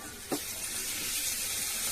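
Garlic and dried red chillies sizzle in hot oil for a gongura dal tempering, a close, steady hiss with a brief crackle near the start.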